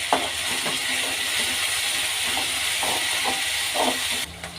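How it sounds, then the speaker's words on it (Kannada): Green chilies and curry leaves fry in hot oil with mustard seeds in a pan, giving a steady loud hiss and sizzle with occasional soft pops and crackles throughout. "ಹಸಿಮೆಣಸಿನ್ಕಾಯಿ, ಕರ್ಬೇವಿನ ಸೊಪ್ಪು, ಮೆಣಸಿನ್ಕಾಯಿ ಚೆನ್ನಾಗಿ ಫ್ರೈ ಆಗಲಿ."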